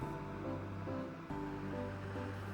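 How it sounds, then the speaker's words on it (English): Rhythmic sea waves rolling in off the coast of Sardinia, a steady continuous wash of surf with a low droning undertone throughout. "To observe the sea and its rhythmic waves"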